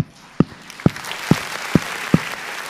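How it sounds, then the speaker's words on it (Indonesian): An audience applauds the regent at the official opening of a GenBest Talk event on preventing stunting from adolescence. Five evenly spaced, firm beats punctuate a steadily building wash of crowd clapping, with no talking heard. "boleh kasih tepuk tangan lagi untuk Pak Bupati"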